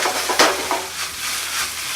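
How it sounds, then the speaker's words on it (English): Greens being stir-fried with corn, vegetables and Cajun-seasoned shrimp in a hot pan: a steady close sizzle with scraping stirs and a few sharp tosses near the start, no talking. "put the greens to the bottom, let them saute for a moment"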